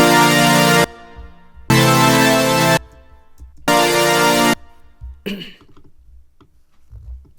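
Sylenth synth chords built from saw waves stacked at three octaves for a trance remix: three bright, full sustained stabs of almost a second each, separated by short silences, then a brief low blip near the end.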